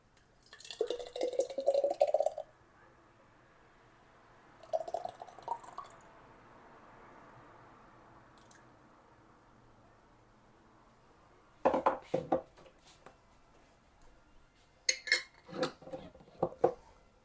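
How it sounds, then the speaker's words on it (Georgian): Homemade adjika sauce with apple cider vinegar being poured and ladled into sterilized glass jars, with several bursts of clinking glass, scraping and dripping separated by quiet pauses, close by and with no talking. "გასტერილებულ ქილებში ჩავასხათ აჯიკა."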